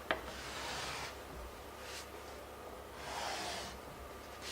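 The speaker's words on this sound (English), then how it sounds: "And see how it's scraping out where the wax was?" Scraping tool dragging across stencil wax on an MDF board, a few soft rasping strokes with pauses between them, faint and close with no talk.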